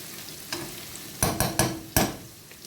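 Meat browning in a frying pan for a home-style peresypka dish sizzles steadily, broken by several sharp, close spatula scrapes and stirs in quick succession, with no voices.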